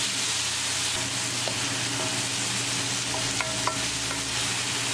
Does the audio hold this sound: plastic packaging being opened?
no